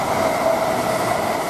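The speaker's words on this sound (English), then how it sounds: "And we've got another train coming" A train rolls through Romford station, a loud, steady rumble with a faint high squeal from the wheels, heard close by and unbroken with no talk.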